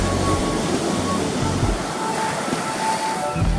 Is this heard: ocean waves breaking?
yes